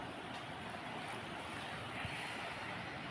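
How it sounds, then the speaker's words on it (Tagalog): A strong flood current rushes down a shallow river in a steady, dense roar of water, with wind buffeting the microphone over it. "Kusog-kusog ang baha sa among suba."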